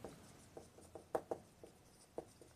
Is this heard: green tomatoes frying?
no